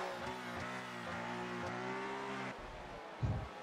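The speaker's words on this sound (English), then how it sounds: "Two Ferraris heading through the hairpin, heading out towards Spoon Curve." Ferrari Formula 1 cars in F1 2018 racing through the hairpin at Suzuka, engines droning and shifting pitch steadily, with a short thump near the end.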